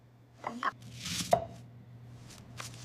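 An onion is chopped with a knife in a few separate, quiet strikes against a board, spaced unevenly over a few seconds in a calm room.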